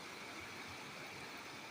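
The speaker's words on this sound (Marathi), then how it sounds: "पर्याचा आवाज भरपूर आहे बघा" A stream flows steadily where women wash clothes, a soft, even rushing of water that stays faint and constant throughout, with no talking.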